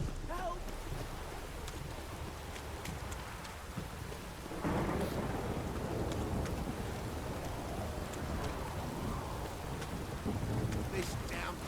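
Steady heavy rain and a low thunder rumble fill a stormy downpour in The Witcher 3, the rain intensifying sharply partway through and continuing loud to the end, with no voices.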